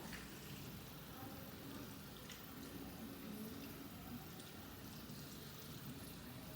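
Tap water running steadily during a handwashing rinse, a continuous broadband hiss that stays constant throughout at a low level, with no talking.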